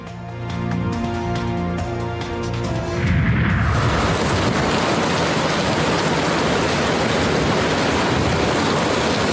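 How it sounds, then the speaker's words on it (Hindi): Heavy monsoon rain in Chakwal, Pakistan pours down as a dense, steady roar of drops hitting surfaces, rising sharply after a tonal musical intro and then staying loud and unbroken. "चकवाल में वक्फे वक्फे से मूसलाधार बारिश"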